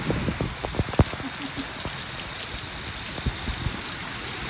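Steady rain pours onto a hard surface close by, with scattered louder drops and splats in an unbroken wash of patter and no voices.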